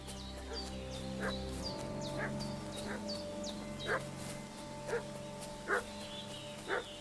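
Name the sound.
dog barking in the video game Kingdom Come: Deliverance 2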